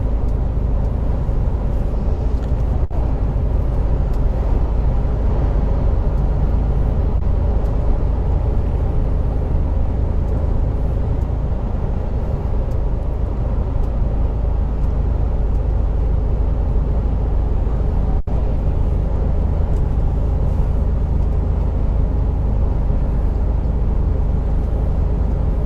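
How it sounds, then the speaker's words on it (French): Steady in-cab road rumble of a truck cruising along a French road in the Orne and Perche countryside, a constant low drone with no distinct passing vehicles standing out, and no talk. "Vous avez un peu tous les camions qui passent par ici aussi."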